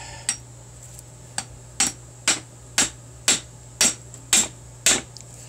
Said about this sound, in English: give it a few taps with a hammer